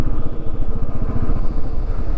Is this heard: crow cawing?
no